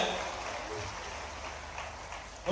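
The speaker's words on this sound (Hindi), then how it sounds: "जोरदार तालियों की गड़गड़ाहट के साथ माननीय मुख्यमंत्री का स्वागत करें" A crowd applauds to welcome the chief minister at a public groundbreaking ceremony for development works in Jahajpur, Sehore, with a dense, sustained patter of clapping that stays steady and rises briefly at the close.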